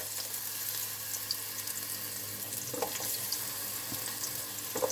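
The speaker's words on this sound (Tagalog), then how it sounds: "So igisa natin yan. Tapos ilagay na natin yung sliced onion." Sliced onion being sautéed in a pan for mung bean soup with coconut milk, a soft steady sizzle with faint scattered crackles and clinks, quiet and without speech.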